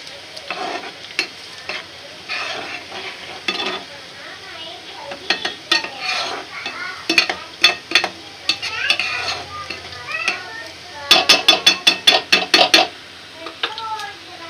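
Browned onions and tomatoes are stir-fried in a pan for egg biryani, with a soft sizzle running under repeated clinks and scrapes of a spoon against the pan, growing into quick rhythmic taps near the end.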